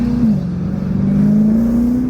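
BMW E90 M3 with an Akrapovic exhaust and stock plenum and intake, giving a steady, loud engine drone with strong induction sound as revs dip briefly and climb back.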